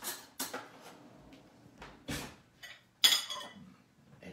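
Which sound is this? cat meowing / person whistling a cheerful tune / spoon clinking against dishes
spoon clinking against dishes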